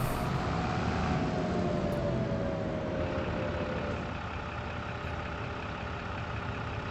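A tractor engine idling in the Farming Simulator 25 video game, a steady, unbroken low drone with a faint tone sliding slowly down, with no talking.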